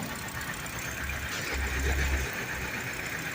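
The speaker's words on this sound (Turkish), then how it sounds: "Şu an LPG'de çalışıyor araç." Opel Astra or Corsa 1.4 engine running on LPG at idle, a steady low rumble with a faint ticking from the top end, close and continuous with a slight swell midway.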